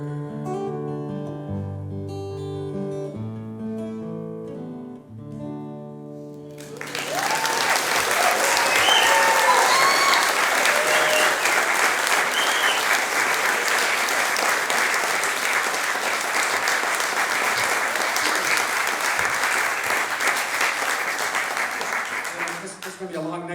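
A concert audience breaks into loud, sustained applause after a piano passage fades, the clapping filling the room for roughly seventeen seconds before tapering off.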